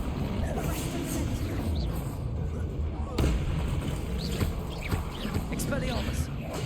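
A Bombarda blasting spell goes off in Hogwarts Legacy amid a busy magical duel, with a sharp burst near the middle and other spell effects and voices churning around it.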